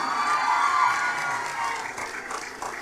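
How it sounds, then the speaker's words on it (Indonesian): A crowd at a pesantren event cheers and claps with excited shouting, loud and sustained for a few seconds with no speech. "Tepuk tangan untuk Nikita Mirzani."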